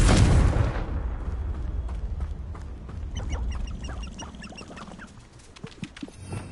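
A Confringo explosion spell in Hogwarts Legacy opens with a sharp, loud blast that fades within a second. Scattered crackles and small chirping magical effects follow before the sound settles.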